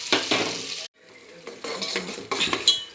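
Masala frying in a pan as onions, salt and turmeric are stirred through, with scraping stir strokes and a soft sizzle in bursts; a short pause breaks the sound before stirring resumes, close and fairly quiet.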